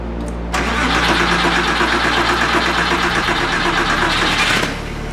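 A Porsche 911, sold as the cheapest in the country, cranks and fires up, then settles into a loud, close, steady engine run for about four seconds before cutting off abruptly.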